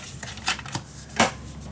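Cutting paper for a scrapbook album pocket, a few short crisp snips and rustles in an irregular rhythm, close and fairly quiet.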